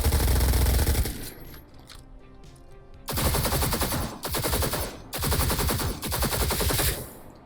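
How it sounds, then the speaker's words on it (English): Modded SMG and rifle fire in Cyberpunk 2077, loud rapid automatic bursts in several long volleys separated by brief gaps, dense and close with no speech. "Next mod we're going to install is going to be new sounds for SMGs and rifles."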